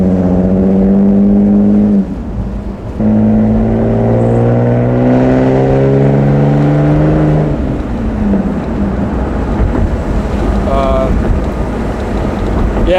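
A Lexus IS300 driving on a main road gives a loud engine drone that rises in pitch through the gears, with a brief dip as it shifts and wind noise throughout.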